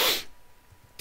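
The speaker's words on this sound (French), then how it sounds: "Maintenant, j'ai envie d'éternuer." A single sharp sneeze bursts out at the very start, loud and airy, then drops into near silence for the rest of the moment.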